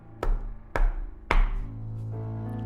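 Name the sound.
knocking on a door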